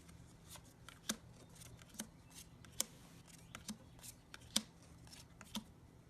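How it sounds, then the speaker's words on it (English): Action cards from the board game Ghost School are shuffled and dealt to players, giving quiet, close, scattered snaps and flicks against a faint low hum, with no talk. "Shuffle the action cards and then deal 3 cards to each player"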